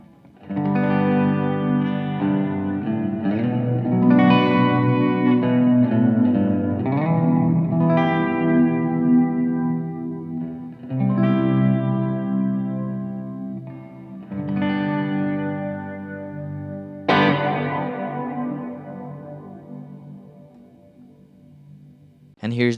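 Electric guitar played through a Supernatural effects pedal with the rate turned up, swirling modulated chords with heavy reverb and echo washing between strums, loud and sustained, ending with a brighter struck chord that decays.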